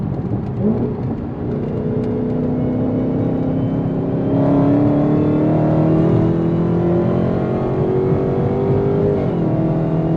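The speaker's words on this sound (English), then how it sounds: "Let's burn this BMW 640 here in just a second." A Dodge Charger Hellcat rolls into a race against a BMW 640, its engine loud and close, revving steadily upward in pitch with a gear shift near the end.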